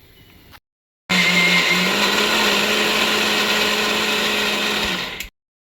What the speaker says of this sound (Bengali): এই কলাইয়ের ডালটাকে একটা মিক্সিতে নেব, আর সাথে একটু দই দিয়ে এটাকে আগে পিষে নেব।